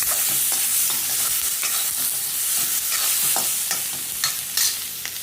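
Ground cumin and coriander powder roasting in a pan for sambar, sizzling steadily with scraping stirs of a spoon, close and continuous with no voices.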